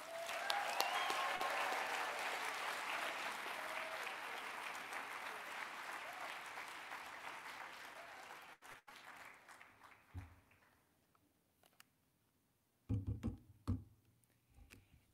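An audience applauds to welcome a keynote speaker: sustained, full clapping that slowly thins and dies away after about eight seconds, leaving a few scattered bumps and soft sounds near the end.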